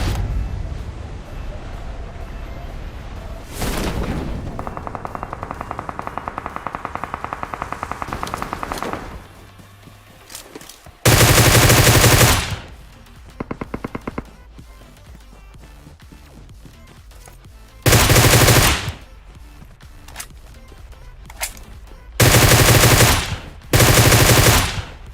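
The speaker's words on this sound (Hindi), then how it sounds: "सामने वाली पहाड़ी से गोली चलने की आवाज आती" Gunfire in PUBG Mobile: long, loud automatic bursts break in repeatedly between quieter stretches, with single rapid shots and faint rattles scattered across the gaps.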